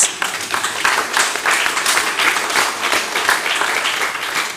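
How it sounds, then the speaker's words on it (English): Crowd at a party branch meeting clapping for Dwight Sutherland, loud, close rhythmic applause with individual claps audible throughout. "Give Dwight Sutherland a little applause"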